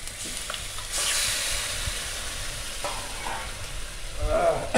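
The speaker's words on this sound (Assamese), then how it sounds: "এতিয়া আমি ইয়াতে কচুখিনি দিম।" Taro pieces frying in a pan and being stirred, with a broad hissing sizzle, scraping stir sounds and a louder burst near the end, and no voices.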